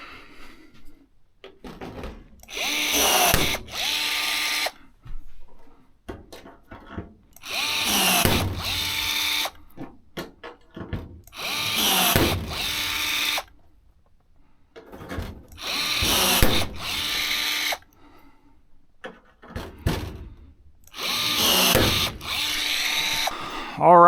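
A pneumatic rivet gun drives rivets through aircraft wing skin onto the spar in five loud, buzzing bursts of a few seconds each, evenly spaced, with quiet gaps and clinks between.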